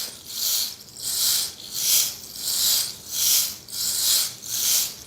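Quick repeated swooshes of beads cascading back and forth inside a rain stick tilted fast, about six even pulses in a row, each a bright rattling hiss rising and fading.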